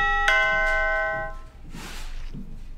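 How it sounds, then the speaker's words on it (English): A coding app plays a bell sound effect: one clear, ringing chime that decays over about a second, followed by faint soft background noises and no speech. "See what happens when I add the bell sound?"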